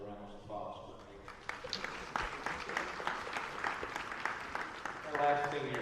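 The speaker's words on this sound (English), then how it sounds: "Another round of applause for me." Crowd applause in a high school volleyball gym on senior night, a moderate steady burst of clapping that swells after a spoken introduction, with talk over a loudspeaker at the start and end.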